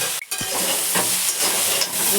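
Neem leaves frying in a pan, a steady loud sizzle with a spoon scraping and stirring through it a few times, heard alone without talk.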